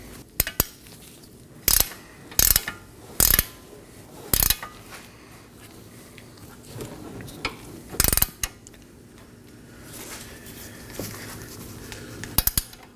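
A hand ratchet snugs an 18 mm ball joint nut on the front lower control arm of a 2018-2024 Chevrolet Equinox, making bursts of loud, close metallic clicking with pauses between strokes and quieter clinks toward the end.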